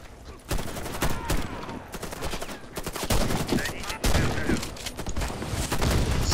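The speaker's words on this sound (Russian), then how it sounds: "Люблю стрелять сквозь людей." Dense gunfire from a PvE match in the shooter Warface: overlapping bursts of rapid shots crackle back and forth throughout, some near and sharp, others duller, with scattered voice sounds mixed in.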